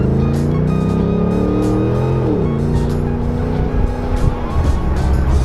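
Custom Land Rover Defender 90 being driven, its engine note droning steadily and loud, then dropping in pitch as it shifts and pulling again, with no talk over it.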